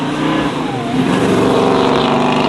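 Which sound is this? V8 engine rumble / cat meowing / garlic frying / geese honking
V8 engine rumble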